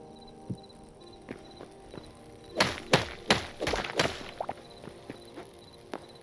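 Blocks being placed in the video game Hytale: a quick cluster of hollow, thunky knocks in the middle, with a few lighter scattered taps before and after over a quiet background.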